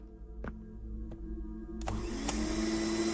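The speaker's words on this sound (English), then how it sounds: "About an hour later, as Carol was vacuuming the upstairs bedrooms, she heard the telephone ring." A vacuum cleaner runs in an upstairs bedroom, a low motor hum with a few clicks before it swells into a louder, rising whine that keeps running steadily.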